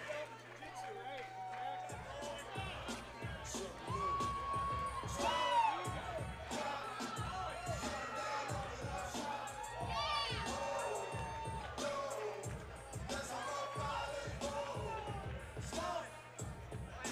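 A home crowd at a Driller No Mercy fight event cheers and shouts after a win, a sustained roar of yells and whoops with rhythmic stomping or clapping, and commentators' voices running underneath.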